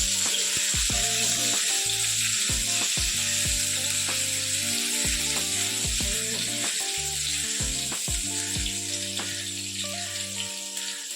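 Chopped garlic and ginger frying in oil left over from frying fish, a steady bright sizzle and crackle close up, with lower tonal hum and occasional stirring taps beneath.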